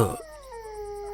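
A dog's drawn-out howl, rising then sliding into a long steady wailing tone, heard close and fairly loud after a brief noisy start.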